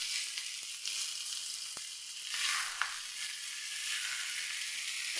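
Chicken pieces frying in a pan for Alfaham mandi give a steady, dense sizzle throughout, with faint stirring clicks and a brief swell midway, close and without any talk.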